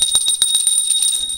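A notification bell sound effect rings bright and metallic several times in quick succession, sustained high tones lingering over the strikes, loud and alone.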